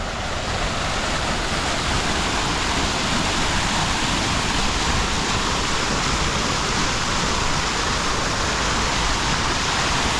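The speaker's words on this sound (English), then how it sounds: "This is a nice waterfall right here." A sculpted urban waterfall in Uptown Columbus, Georgia, roaring as a steady, dense wash of rushing water heard up close with no break.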